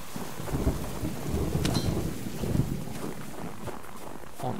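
Rain and thunder in the survival video game Subsistence, with a steady wash of rainfall, low rumbling thunder rolling underneath and a few sharper crackles, at moderate volume and no voices.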